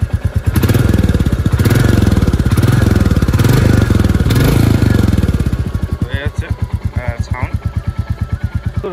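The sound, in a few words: Royal Enfield Classic 350 motorcycle revving with throttle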